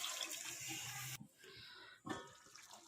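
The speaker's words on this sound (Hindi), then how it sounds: "अब इसमें मैं पानी शामिल कर देती हूँ" Water poured into a cooking pot of egg and potato curry, a short splashing rush that cuts off abruptly, then a faint gurgle and a second splash, close and fairly quiet.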